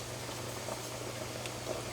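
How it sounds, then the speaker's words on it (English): Water boiling in a pot for rice noodles, a steady close bubbling and simmering wash with a low hum beneath, continuous throughout with no voices. "I've got some water boiling to cook our rice noodles"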